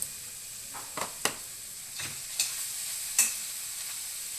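Quiet, steady sizzling from fenugreek leaves in hot tempering oil in a pan, punctuated by several soft stirring clinks and scrapes.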